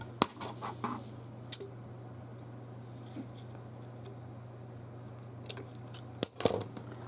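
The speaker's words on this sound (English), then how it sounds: "I'm going to cut that right there." Scissors snip trim on a handmade Christmas ornament in a quiet room, a few crisp, faint cuts spaced apart over a low steady hum.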